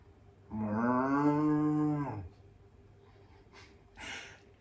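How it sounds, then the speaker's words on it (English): A cow moos once in a long, drawn-out call lasting under two seconds, loud and close against a quiet farm background, followed by faint breathy sounds. "Cow."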